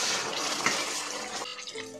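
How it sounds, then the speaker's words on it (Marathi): Hot water poured into thick pithla, a gram flour curry, making a short rushing splash that cuts off into quieter bubbling and settling liquid, close up with no speech. "थोडं गरम पाणी टाकून घ्यायचं"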